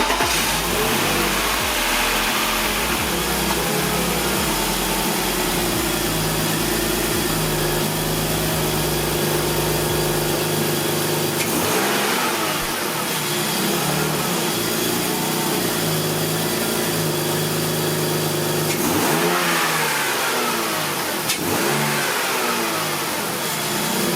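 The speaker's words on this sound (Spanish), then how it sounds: "Pues ahora vamos a arrancar el coche y a ver si hemos solucionado algo." A BMW engine, just fitted with a repaired idle control valve, starts and runs for over twenty seconds, a steady mid-pitched hum with rev swells around the middle and late in the run, close and loud with no talking.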